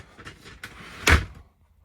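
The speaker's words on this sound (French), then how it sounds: "avec la porte coulissante," A sliding shower door in a camper van rolls along its track and shuts with a single firm thud near the end, close and brief, with no talk.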